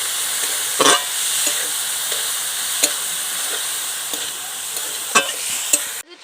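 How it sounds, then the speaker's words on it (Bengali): Boiled banana flower sautés in a hot pan with prawns and spices, giving a loud continuous sizzling hiss dotted with occasional clinks and scrapes of stirring, ending abruptly. "এবার খুব ভালো করে আমি কষে নেব।"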